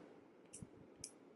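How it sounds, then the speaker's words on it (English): A plastic click pen for highlighting and concealing makeup being clicked twice, two faint, crisp clicks about half a second apart in a quiet room. "It's a click pen."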